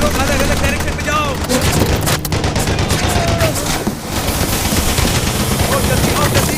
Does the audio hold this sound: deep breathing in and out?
no